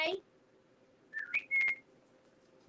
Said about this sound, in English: Is that your whistle?